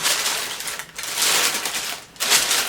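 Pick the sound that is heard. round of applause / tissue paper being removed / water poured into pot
tissue paper being removed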